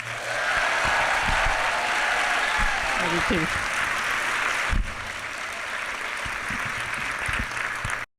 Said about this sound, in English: Give her a big hand one more time because she's just that awesome.